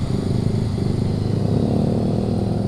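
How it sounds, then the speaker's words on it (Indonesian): A motorcycle with a modified loud exhaust at night, a steady heavy low rumble that fills the scene, fairly loud and close, with no clear pass-by swell. "banyak keluar pakai motor yang knalpotnya udah dirubah ya, jadi bunyinya lumayan annoying"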